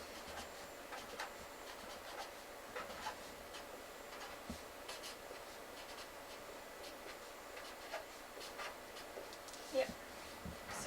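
Someone writes backwards on a board, a faint, irregular scratching of strokes at close range that runs throughout under quiet room noise.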